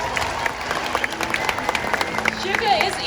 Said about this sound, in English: Everybody give a round of applause to Shuka.